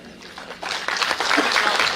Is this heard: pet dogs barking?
no